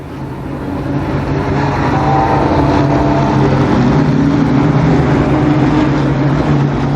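Limited Sportsman race cars, seven of them, roar through an eight-lap heat race at Columbus Motor Speedway in 1991, a steady, loud blend of engines droning continuously from start to finish with no pauses.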